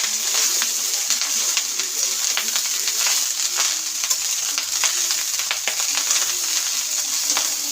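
Leftover rice fries in a pan with a loud, bright continuous sizzle close by, broken by occasional stirring scrapes and no voices.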